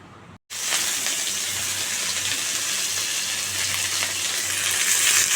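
Bottle gourd peels fry in a pan with a strong, steady sizzle that starts abruptly after a brief silence and holds loud and close to the end, with no talking.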